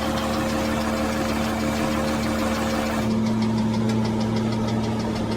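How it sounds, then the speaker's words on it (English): Aston Martin DB7 V12 idling with a rapid, even tick from piston slap at the top of the engine, a steady mechanical tapping over a smooth hum that shifts tone midway. "you can hear a very distinctive tick evident from the top of the engine"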